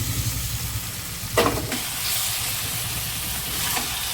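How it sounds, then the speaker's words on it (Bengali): Vegetables fry and sizzle in oil in a pan, with a steady close hiss and one brief stirring scrape partway through. "দেখুন আনাজের থেকে কষতে কষতে তেল ছেড়ে দিয়েছে।"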